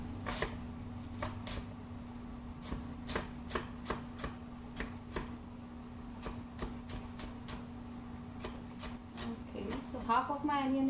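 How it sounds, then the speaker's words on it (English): A knife chops a medium onion finely on a board, sharp regular taps repeating about twice a second against a steady background hum, fairly quiet, with a brief voice near the end. "And now I am going to chop my 1 medium size of onion"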